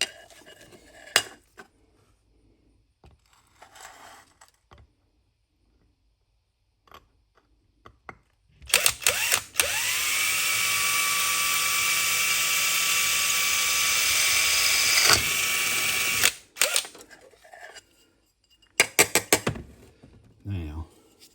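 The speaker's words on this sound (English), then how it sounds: "I'll put that in the vise to drill this bigger hole" An electric drill held in a vise bores a larger hole in an LED landscape light. It gives a steady high whine that lasts about six seconds, with clicks and handling knocks before and after.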